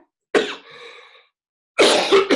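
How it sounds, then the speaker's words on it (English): Two distinct, close coughs from one person, separated by a short pause, the first trailing off into a raspy exhale. "this cough just manifests all the time"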